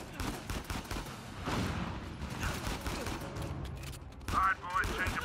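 Gunfire in the Uncharted 4 video game: rapid overlapping bursts of shots and ricochets, loud and continuous over several seconds, with a voice briefly speaking near the end.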